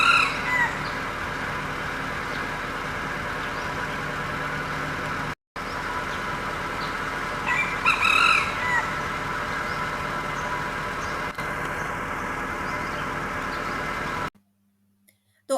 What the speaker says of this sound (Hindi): अभी आपने मुर्गे की बांग सुनी। ये रेड जंगल फाउल मेल था